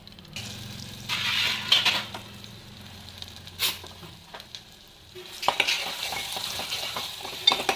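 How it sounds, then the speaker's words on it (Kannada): Mustard seeds and curry leaves sizzle and crackle in hot oil in a home kitchen, a steady frying hiss with sharp pops and spatters, close and moderately loud, with no talking. "ಸಾಸಿವೆ ಪಟ ಹೇಳುವಾಗ ಕರಿಬೇವು ಸ್ವಲ್ಪ ಹಾಕ್ತೀನಿ"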